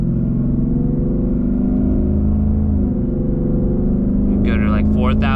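A Ford Mustang engine hums steadily from inside the car while the driver upshifts with the paddle shifters, keeping revs around 3,000 RPM. The loud, even drone stays constant throughout, with a voice heard near the end.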